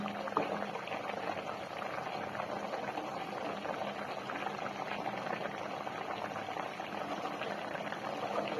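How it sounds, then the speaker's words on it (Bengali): Vegetables such as papaya and capsicum simmer in a healthy chicken stew. A dense, continuous bubbling and burbling of boiling liquid runs steadily throughout, close and even in loudness, with no voices. "দেখুন সবজিগুলো সেদ্ধ হয়ে গেছে"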